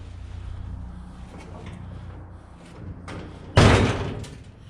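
A car door pulled shut with one solid, close thump, preceded by low background rumble and faint handling noises.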